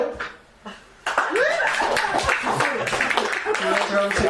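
Audience at a cabaret show breaks into scattered applause and laughter after a quiet pause, a busy burst of clapping hands and chuckles that continues at a lively level.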